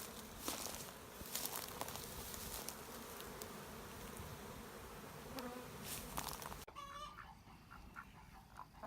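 A swarm of bees buzzes steadily outdoors, a dense continuous hum with faint individual wingbeats, broken by brief rustling knocks and ending in a quieter stretch.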